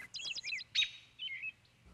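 An American robin gives a quick run of clear, high chirps followed by a sharp call and a softer trailing note, close and distinct against a quiet background.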